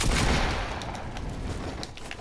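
Dense burst of video game gunfire, loud and close, a rapid run of overlapping shots that carries on steadily with sharp cracks standing out near the end.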